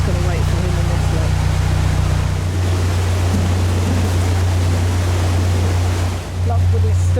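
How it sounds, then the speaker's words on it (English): Water rushes and churns loudly as a canal lock is let down beside a narrowboat, a steady roar with a low rumble throughout, fading slightly near the end. "Lock buddy's stuck, so Pete's letting some water down. It's all going all over the place."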